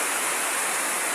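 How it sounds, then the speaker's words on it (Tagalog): Heavy rain pouring down steadily, a dense, loud, unbroken hiss with no talking. "Malakas talaga ang ulan."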